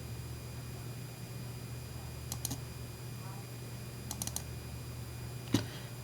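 Several soft mouse clicks on a computer folder, a short pair, then a quick cluster, then one sharper click near the end, faint over a steady low electronic hum.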